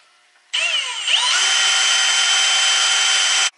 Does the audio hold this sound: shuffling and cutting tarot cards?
no